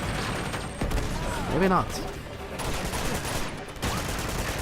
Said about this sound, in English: So I make good use of the blind firing